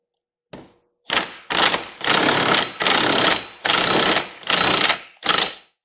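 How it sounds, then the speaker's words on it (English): An impact wrench hammers a pulley puller screw tight on a Silverado power steering pump, firing seven loud rattling bursts of increasing length close up, separated by short pauses. "I'm going to opt to use the impact"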